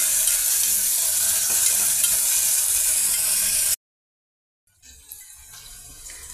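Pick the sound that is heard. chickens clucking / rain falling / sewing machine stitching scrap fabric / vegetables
vegetables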